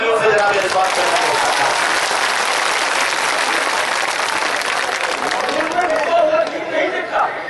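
Thunderous applause from a mushaira audience at a Banaras Urdu poetry gathering, dense continuous clapping with crowd chatter throughout, loud and close, easing only slightly at the end.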